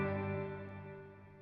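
An electric guitar chord rings through a Subdecay Super Spring Theory reverb pedal set to a subtle cave sound, its sustained tone slowly decaying in a soft, echoing tail with nothing else heard.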